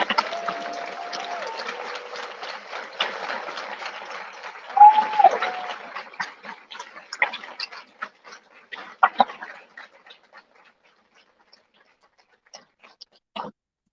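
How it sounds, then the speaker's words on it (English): Audience applause at a mayoral luncheon for elected officials, a dense clapping wash for about six seconds that thins into scattered claps, with brief tonal sounds and a few late isolated claps. "I'd like us as an audience to just give a round of applause to them for their service"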